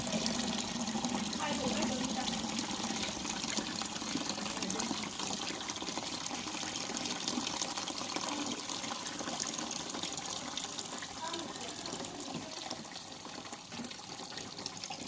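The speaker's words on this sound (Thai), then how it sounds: "นี่คือมันต้องเป็นน้ำกระโดดแบบนี้ครับเขาถึงจำลองเป็นตัวน้ำตก" Water splashes and gushes steadily like a small waterfall from a homemade aerator on a koi pond, a continuous broadband wash that stays loud throughout with faint voices in the background.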